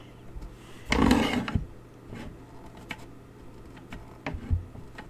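A single short scraping cut at close range as a small strip is trimmed off a handmade silver and blue Christmas card, followed by a few faint taps and light handling noises in a quiet room.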